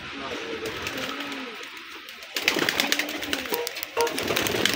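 Rajshahi Giribaj pigeons coo in low, rolling phrases close by, several soft calls overlapping with faint background bustle.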